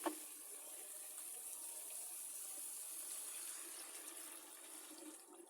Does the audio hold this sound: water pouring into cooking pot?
yes